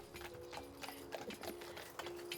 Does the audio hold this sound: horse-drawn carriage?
yes